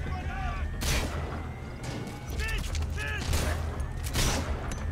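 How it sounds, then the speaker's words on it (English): Gunfire in Metal Gear Solid V comes as several separate bursts of shots amid game ambience, fairly faint and at a distance. "someone's shooting at me"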